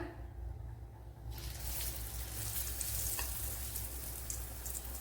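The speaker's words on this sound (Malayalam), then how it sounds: "ഇപ്പോൾ ഓയിൽ ചൂടായിട്ടുണ്ട് അതിലേക്ക് ഇനി ഇതുപോലെ നല്ലവണ്ണം ഒന്ന് കുഴച്ചതിന് ശേഷം ഒന്ന് കോരി ഒഴിച്ചു കൊടുക്കാം" Egg batter ladled into hot oil in a Kerala home kitchen breaks into a loud, steady sizzle after a short quiet start, the crackling frying continuing without pause, and no one talks.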